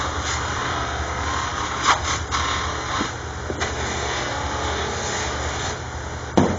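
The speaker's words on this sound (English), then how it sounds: "So the buffing takes about 5 minutes to get this up to a really good shine." A buffing wheel polishes a 1940s GM car mirror with a steady, loud whirring hum and occasional brief scuffs as the piece is pressed against it.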